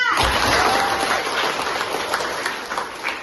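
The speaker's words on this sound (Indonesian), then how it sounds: "Kita tepuk tangan dulu kelompok 3" A class of students claps for group 3, the first team to finish, in a classroom; dense, steady applause fills the whole stretch, loud and close, fading slightly toward the end.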